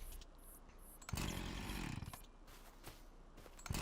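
A chainsaw in Farming Simulator 25 buzzes in short bursts, one strong surge in the middle and fainter revs around it, fairly quiet overall with no talking.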